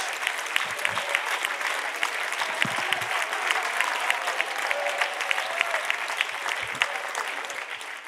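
Church congregation applauding during a sermon, a steady roomful of clapping hands with scattered sharper individual claps sustained for several seconds.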